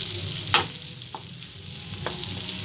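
Chicken meat fries in a pan over a low flame, a steady close sizzle and crackle broken by a few sharp pops and utensil clicks, with no talk.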